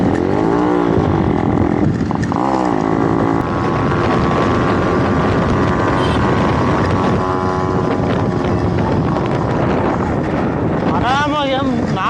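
Yamaha RXZ motorcycle engine while riding at speed in fourth gear: a steady, loud engine drone with heavy wind buffeting on the microphone throughout, brief rises in pitch, and a voice talking over it.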